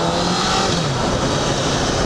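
A 2009 Honda CBR1000RR Fireblade sport motorcycle engine revs loudly and steadily close by in first gear, a dense buzzing roar held throughout with no talking.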